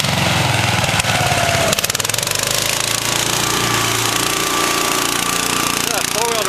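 Loud Terra Jet amphibious four-wheel-drive vehicle engine revving hard and droning continuously nearby, a harsh rattling roar with a shift in pitch partway through, and voices faintly under it.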